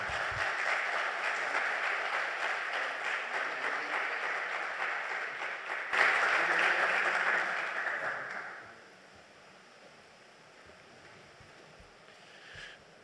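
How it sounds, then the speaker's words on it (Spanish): Welcoming applause from a lecture-course audience greets a doctor, steady dense clapping for about eight seconds that then fades to quiet room tone. "le damos un aplauso de bienvenida al doctor"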